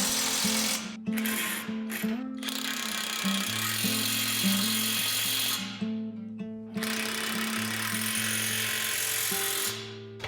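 A power tool whirs while tightening bolts under a 2025 Ford F-150, its pitch holding steady and then shifting in short runs and pauses, loud and close with no talking.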